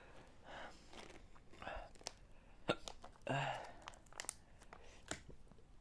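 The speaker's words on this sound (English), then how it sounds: "Oh, there's these hiccups." Hiccups after eating a Carolina Reaper pepper come as several sharp, close jolts at uneven intervals, mixed with breathy groans and quiet vocal noises.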